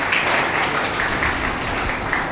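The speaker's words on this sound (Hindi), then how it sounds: "उनके लिए जरा एक बार तालियां बजा दें" Applause for a staff secretary at a school Teacher's Day celebration: a crowd clapping continuously, dense and steady throughout, filling the hall.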